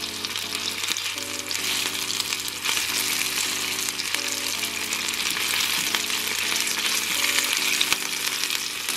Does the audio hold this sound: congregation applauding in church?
no